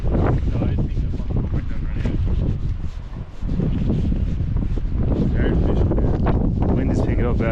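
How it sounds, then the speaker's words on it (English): Strong wind blasts across open water during fly fishing, roaring continuously against the microphone with loud rumbling buffets and voices talking underneath. "Wind is picking up, yeah."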